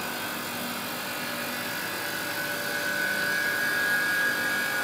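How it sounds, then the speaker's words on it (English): Refrigeration compressor of a BLS 2500 solidification point tester running with a steady mechanical hum and a whining tone that rises slightly partway through, close and continuous. "Compressor starts working now."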